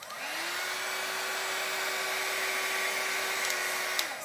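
A Panasonic EH-KA71 hair styler runs at its highest speed and heat setting, giving a steady, close whooshing blow with a constant motor whine and no voice over it.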